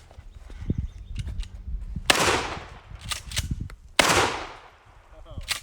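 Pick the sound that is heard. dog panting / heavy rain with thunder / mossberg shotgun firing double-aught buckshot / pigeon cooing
mossberg shotgun firing double-aught buckshot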